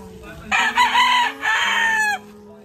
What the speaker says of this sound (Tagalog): Eh po, may manok po.